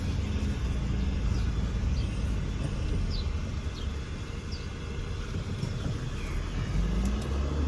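Steady interior rumble of a Mercedes-Benz car driving on the road during a test drive, a continuous low engine and road drone with faint higher squeaks over it.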